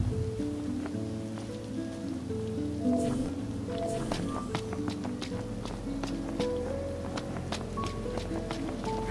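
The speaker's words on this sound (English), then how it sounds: "Camping sucks when it rains." Steady rain falls on a surface during a walk in the rain, with scattered drops tapping close by over a constant wash of noise and low game music beneath, and no voices.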